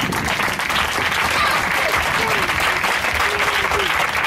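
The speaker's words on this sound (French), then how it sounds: "Acclame pour la parole de Dieu ce matin." A church congregation at a Sunday service applauds the word of God, sustained dense clapping from many hands filling the room, with a voice speaking over it.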